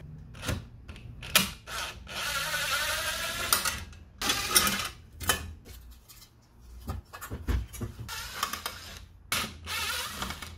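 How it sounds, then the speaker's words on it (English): Screws being backed out of the rear housing of a halogen headlight, heard as close, irregular scraping, clicking and rubbing bursts of a tool working the screws, with short pauses between turns and no talk. "So we are going to have to remove these screws here."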